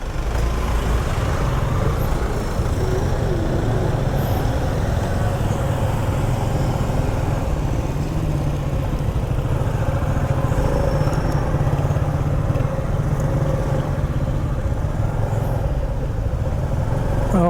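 A motorcycle rides along Ako Bicol Road near Mt. Mayon in Legazpi City, its engine and road rumble loud and steady throughout alongside wind buffeting.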